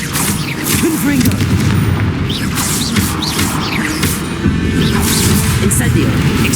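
Confringo blasting spell explosions in the Hogwarts Legacy video game, loud and repeated over dense combat noise with whooshing spell effects and a voice calling out spells.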